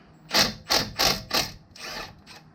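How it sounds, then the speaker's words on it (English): Four sharp metallic hammer blows followed by two duller knocks as a front brake rotor is struck loose from the hub of a 2007-2016 Chevrolet Traverse, close and ringing with short gaps between hits. "once we've hit the rotor off"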